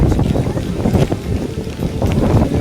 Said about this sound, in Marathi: वारं खूप सुटलेलं आहे या ठिकाणी.